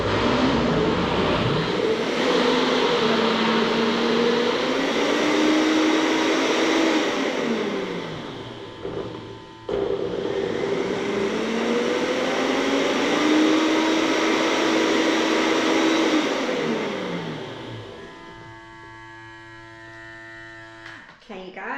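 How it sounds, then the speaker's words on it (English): A vacuum blender hums loudly with a rising, wavering pitch, then stops briefly and winds back up before cutting off near the end. "this vacuum blender is pretty cool"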